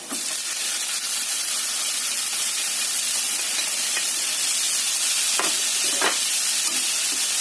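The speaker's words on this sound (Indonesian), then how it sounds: "Setelah kecium bau wangi, tambahkan rebungnya." Bamboo shoots hitting a hot pan of garlic sautéed until fragrant, giving a continuous loud sizzling hiss of stir-frying with a few faint scrapes, and no voices.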